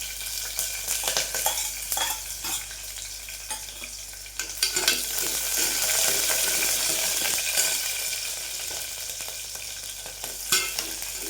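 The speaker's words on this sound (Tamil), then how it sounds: "பூண்டு கொஞ்சம் நல்லா எண்ணெயில் ஃப்ரையாக இருக்கும்" Crushed garlic, green chillies and dry red chillies fry in hot oil, a close, continuous crackling sizzle that swells midway, punctuated by occasional stirring clinks of a utensil against the pan; no talking.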